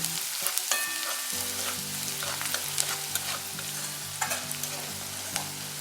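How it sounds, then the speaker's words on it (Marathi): Chopped onion sautés in a pan, sizzling steadily up close with scattered crackles and spatula scrapes, while a soft looping tune plays quietly underneath throughout. "आता हा कांदा थोडासा परतून झालाय"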